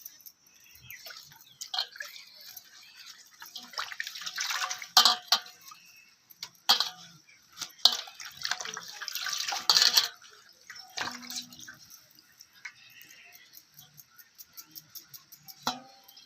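Splashing and swishing of colocasia (taro) leaves being rinsed in water, with intermittent clinks of a vessel and brief dripping, close by.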